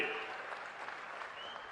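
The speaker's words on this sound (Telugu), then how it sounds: "గట్టిగా చప్పట్లు కొట్టి అభినందించండి" An audience claps at a public event with Chief Minister Chandrababu, a faint, steady patter of applause heard from a distance.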